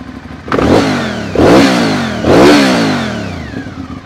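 An Aprilia Shiver 750 motorcycle engine starts and revs up hard three times, each rev a loud rising roar that settles back toward a rough idle, heard close with no talk.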